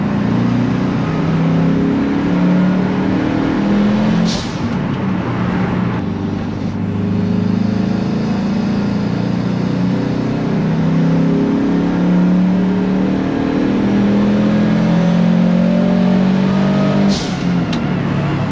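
A Subaru-swapped Volkswagen T3 bus engine runs on a dyno with the clutch slipping, holding a loud, steady droning hum that stays nearly even throughout with only slight swells.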